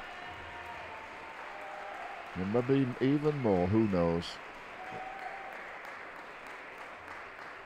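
Crowd applause at a table tennis match in the 2017 World Junior Table Tennis Championships, a burst of clapping and cheering from the arena that swells and fades over a few seconds, with a commentator talking before and after.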